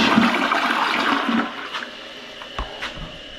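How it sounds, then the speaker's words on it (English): A household toilet, just refitted with a new wax ring, flushes loudly with a strong rush of water that drains away after about a second and a half, leaving a quieter refill trickle with a few small knocks. "Give it another flush."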